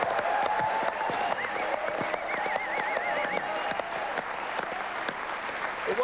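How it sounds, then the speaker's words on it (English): A round of applause from a crowd at a televised live football show, steady continuous clapping heard at moderate distance with faint voices and whistles underneath. "that deserves a round of applause"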